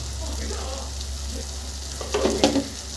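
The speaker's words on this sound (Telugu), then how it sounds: "ఒకసారి ఇలా అంతా మిక్స్ చేసుకోండి." Tomato and onion masala with chili powder is stirred in a pan, a steady soft sizzle underneath with a few louder scraping stirs near the end; no one speaks.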